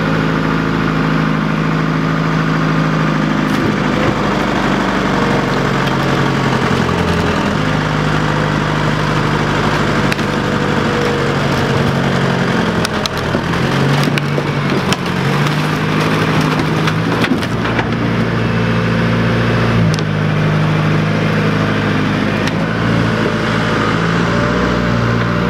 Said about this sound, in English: I'm going to plough through this place now with a digger